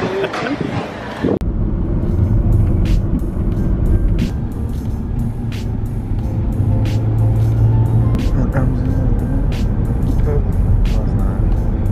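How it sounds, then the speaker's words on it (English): A large bus on a small island drives close by, its engine a steady low rumble that fills the whole stretch. Brief talk and a sharp knock come first, and faint clicks sit over the droning motor. "it's a big ass bus"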